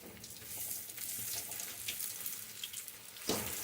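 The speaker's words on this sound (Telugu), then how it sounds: "ఇలాగ కొంచెం ఎర్రగా అయ్యేదాకా ఫ్రై చేసుకోండి." Garelu, lentil vadas, deep frying in hot oil, a quiet, steady bubbling hiss with a slightly sharper pop near the end and no voices.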